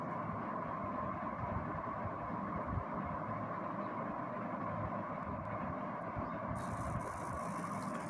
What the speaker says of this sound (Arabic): زي ما حضراتكم شايفين الموتور شغال